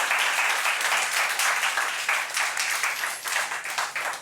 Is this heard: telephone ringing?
no